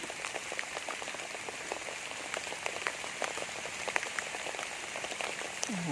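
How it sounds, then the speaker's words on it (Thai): Rain falls steadily in a wild bamboo forest, a dense patter of drops striking leaves and surfaces, with scattered louder taps close by. "มื่นเดี๋ยวให้พี่น้องเบิ่งฝนกัน"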